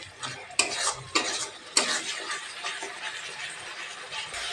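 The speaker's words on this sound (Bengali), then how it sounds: "এই মশলাটা আমি ভালো করে ভেজে নিব" Spice paste with chili frying in oil for a taki fish curry, stirred in a pan: a steady close sizzle broken by a few sharp scraping strokes of the spoon, with no voices.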